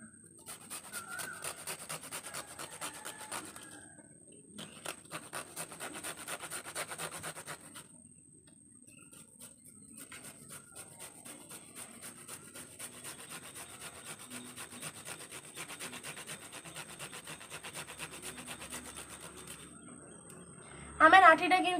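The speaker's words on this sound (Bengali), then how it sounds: "এদিকে আমি গ্রেটার মেশিন নিয়েছি। আমগুলোকে ভালো করে এটা দিয়ে চুড়ে নিতে হবে।" Raw green mango scraped against a grater, repeated rubbing strokes in bursts with short pauses between, close and fairly soft under a faint steady hiss, ending with a brief louder clatter.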